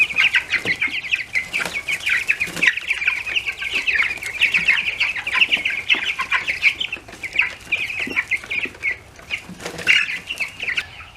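Several chickens cluck and chatter continuously nearby, with occasional bursts of wing flapping and scuffling, no people talking.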